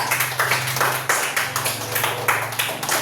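A classroom of students claps for a classmate, a brisk run of many overlapping hand claps at steady loudness throughout, with a low hum underneath.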